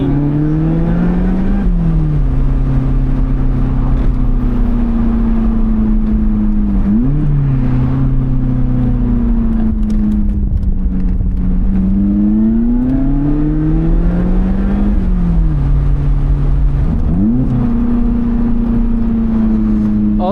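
Lotus Elise Cup 250 from 2020, driven on a winding road: its engine drones steadily and loudly throughout, with pitch dips and rises as the driver lifts off and reapplies throttle through corners. No talking.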